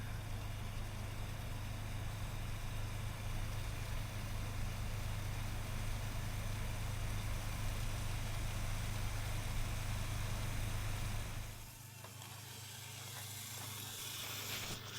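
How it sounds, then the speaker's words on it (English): A van's engine idles steadily with a constant low hum and hiss that holds for about eleven seconds, then drops off to a quieter, thinner background; no talking is heard over it. "The van's still running."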